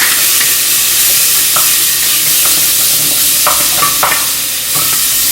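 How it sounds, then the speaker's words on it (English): Ginger and the white parts of green onion are stirred in a very hot clay pot, giving a steady loud sizzle and frying hiss with occasional scrapes and taps of the utensil against the pot. "ginger and the white portion of the green onion. And we're going to stir."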